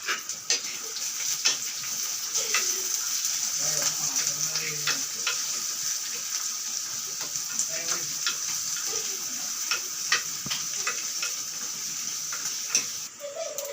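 Curry leaves, onion, ginger, chili and garlic fry in a pan with a steady hiss, broken by soft scrapes and light clinks of a spoon stirring at irregular intervals.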